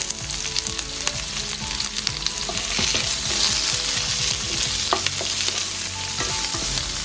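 Onions with green chilies and bay leaf sauté in a pan for tomato rice, a loud, steady sizzle with frequent stirring clatter from a utensil scraping the pan, close and continuous throughout.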